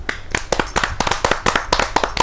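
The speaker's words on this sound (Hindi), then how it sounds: "तालियों से स्वागत करेंगे।" An audience at a Hindi kavi sammelan bursts into clapping to welcome a poet onto the stage: dense, close, uneven hand claps that keep going steadily, with no one talking over them.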